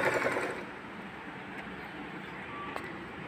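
A Bernette Sew & Go 1 automatic sewing machine stitches in a steady, continuous whir, near and moderately loud, with a brief louder burst at the start and no talking over it.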